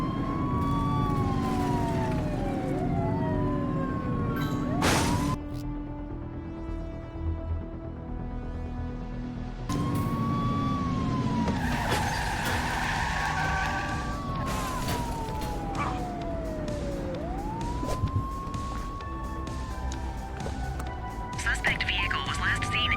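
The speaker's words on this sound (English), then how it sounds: "Looks like we're in for a police pursuit." Police sirens wail through rising and falling sweeps during a car chase in The Precinct, loud and continuous over engine noise and road rumble, with brief bursts of radio chatter and voices mixed in.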